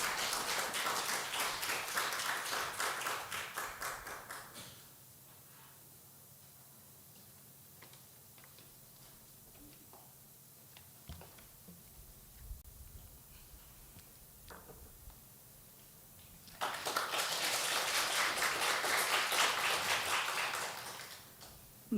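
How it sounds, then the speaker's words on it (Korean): A church congregation at a Korean family worship service breaks into warm applause twice, first for about five seconds and again later for about five seconds. A quiet hall with faint sounds separates the two bursts. "나오실 때 박수로 환영해 주시기 바랍니다."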